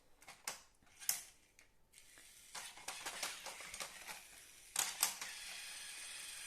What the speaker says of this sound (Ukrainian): Так, запускаємо наш паровозик.